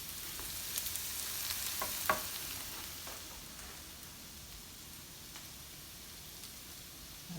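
Shrimp frying in a pan over medium-low heat, a soft, steady crackling sizzle with a few faint pops and light stirring, quieter toward the end.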